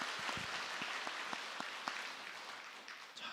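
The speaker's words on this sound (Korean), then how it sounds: "우리 하나님 앞에 영광의 박수를 올려드리겠습니다" A church congregation applauds during a Sunday worship service, a quiet, distant wash of steady clapping with a few sharper individual claps standing out over the whole stretch.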